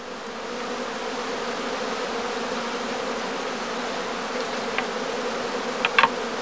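Honeybees emerging from a prime swarm hum inside a skep bag, a steady, even drone that holds throughout. A few faint clicks rise near the end.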